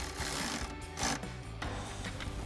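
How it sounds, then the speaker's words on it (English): A 13mm socket ratchet tightens the top bolt of an Amp Research PowerStep running-board bracket on a Jeep Wrangler JL, giving steady close mechanical clicking and grinding for a few seconds with no talk. "we can tighten down our top bolt with a 13mm socket"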